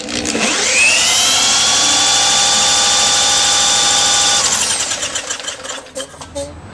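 The engine of a mover running on diesel vapors is cranked, giving a loud whirring whine that spins up, holds steady for several seconds, then winds down into clattering noise.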